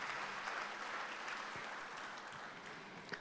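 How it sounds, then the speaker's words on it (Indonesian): Congregation clapping during an online church worship service, a steady moderate round of applause that gradually tapers, heard faintly as if through a room microphone. "Tepuk tangan bagi Tuhan kita."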